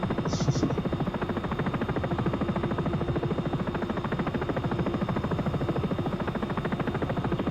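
A Sikorsky S-76 helicopter in the X-Plane 11 flight simulator drones steadily with a fast, even rotor chop and a constant engine buzz, loud and unbroken throughout.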